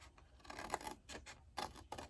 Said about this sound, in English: I'm going to cut just this side of the score line.